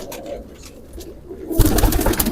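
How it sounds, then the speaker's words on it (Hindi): Indian Khatang pigeons coo softly at close range, a low murmuring call that swells into louder, busier cooing and fluttering toward the end. "ये माशाल्लाह खतंग कबूतर हैं दोस्तों, इंडियन खतंग।"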